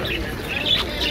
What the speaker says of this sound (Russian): вот такой певчий попугай, самец